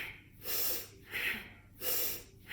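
Rhythmic nasal breathing during a yoga breathing exercise, with three or four close, breathy exhales and inhales in a steady repeating cycle and no talking.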